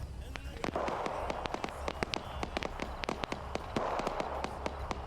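Artillery in the Arma 3 war game, a rapid series of sharp cracking blasts repeating irregularly over a continuous rumble, fairly loud and close throughout, with speech faintly under the barrage.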